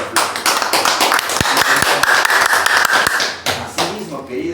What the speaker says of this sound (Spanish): pido a todos los compatriotas recibir un fuerte aplauso